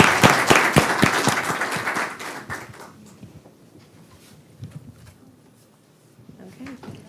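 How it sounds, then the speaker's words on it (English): Loud applause from a crowd at a city council meeting, dense clapping that gradually fades over several seconds, with a few scattered claps near the end. "Let's give a round of applause."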